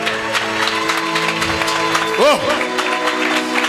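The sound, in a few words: audience applause during a sermon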